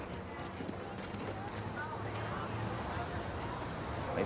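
A horse ridden by a young boy at a riding competition, hooves clip-clopping in a steady rhythm at moderate distance, faint and partly masked beneath someone talking.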